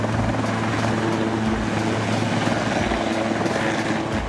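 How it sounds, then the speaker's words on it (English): A helicopter's rotor thumps in a rapid, steady beat over a constant engine whine, loud and close throughout. "This helicopter just wanted to help someone."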